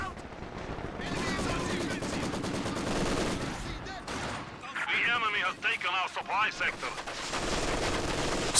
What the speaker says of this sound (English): Incendiary rounds from the machine gun.